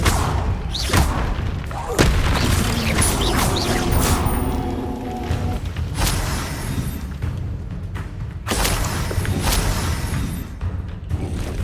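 Incendio fire spell cast in the game Hogwarts Legacy, with loud booming bursts and crackling blasts layered over continuous game music and effects, dense and close.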